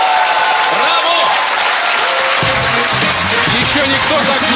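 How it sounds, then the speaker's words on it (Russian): A studio audience gives a loud, sustained round of applause at a comedy show, dense and continuous, with a voice speaking over the clapping in the second half. "Ильнур, бурные аплодисменты."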